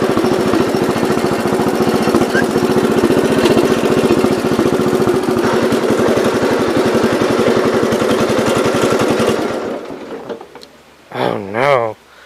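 A 1970 all-white Gravely 408 tractor engine chugs loudly and steadily up close with a rapid pulsing beat, then cuts out near the end, followed by a brief voice.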